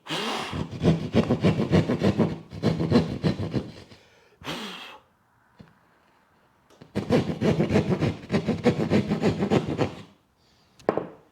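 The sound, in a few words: drywall saw cutting drywall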